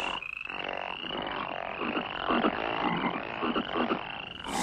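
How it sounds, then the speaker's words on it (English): A chorus of frogs croaks steadily in rhythmic pulses over a constant high insect-like trill, close and fairly loud. "But we don't need more frogs. Get rid of these."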